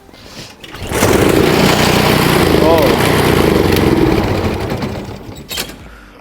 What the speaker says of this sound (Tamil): இப்போ மிஷினை ஸ்டார்ட் பண்ணி போட்டு மிஷின் ரைப்போ மிஷின் மாதிரி தான் ஸ்டார்ட் பண்ணணும்